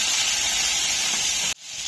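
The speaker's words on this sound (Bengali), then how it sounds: "তো মাছ ভাজাটা বসিয়ে দিয়েছি।" Bata fish rubbed with salt and turmeric fries in hot oil, a loud steady sizzling hiss that cuts off abruptly near the end before faintly returning.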